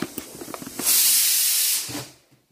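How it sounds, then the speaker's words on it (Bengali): A pressure cooker whistle blows while vegetables boil, a loud steady hiss of steam lasting about a second before fading, preceded by light knocks and clatter. "দিদি সবজি সিদ্ধ করছে, যে সিটি পড়েছে"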